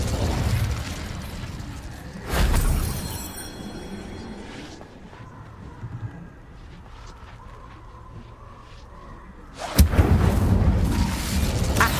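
An Incendio fire spell cast in Hogwarts Legacy, heard as loud whooshing bursts of flame, one short blast early on and a stronger roaring burst near the end, with quieter game ambience between.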